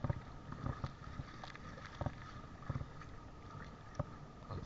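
Wind gusting outdoors beside the Sacramento Deep Water Channel, buffeting the microphone with steady low rumble and irregular thumps, close and continuous, no talk.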